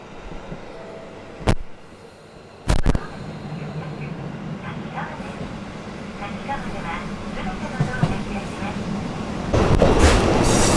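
A Hakodate Main Line train bound for Iwamizawa at Takikawa station, with steady rumbling rail noise, a couple of sharp clunks early on and a louder swell near the end; no one speaks.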